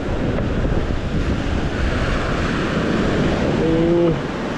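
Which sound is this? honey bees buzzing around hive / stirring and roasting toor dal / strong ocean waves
strong ocean waves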